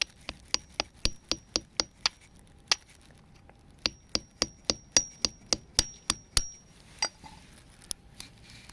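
Repeated sharp hammer strikes cracking hickory nut shells, a steady series of knocks with brief pauses, close and crisp with no talking.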